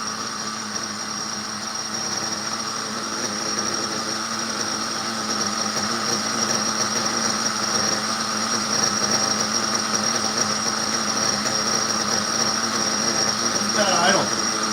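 A circa-2000 Italian RC model engine idles steadily with a high, buzzy whine that holds near and constant throughout, with faint background noise around it.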